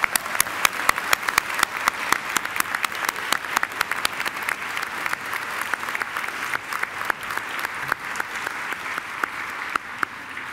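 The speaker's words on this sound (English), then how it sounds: "please join me in giving them a round of applause" A graduation ceremony audience at Macquarie University applauds the Faculty of Human Sciences graduates, a steady, dense wash of clapping from a large crowd with sharp individual claps standing out, sustained evenly throughout.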